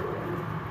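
Low, continuous cooing from Sialkoti black-faced pigeons, close and fairly quiet, with no voices present.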